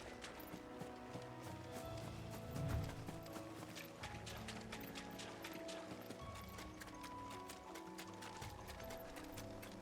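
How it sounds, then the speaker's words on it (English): Chocobos run in a video game, their quick, steady clip-clop footfalls pattering under a busy layer of game music and effects, with one brief louder thump partway through. "These chocobos aren't going down without a fight."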